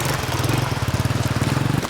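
A motorcycle taxi drones close by on a rural trail with a steady, throbbing low rumble, rising slightly as it passes.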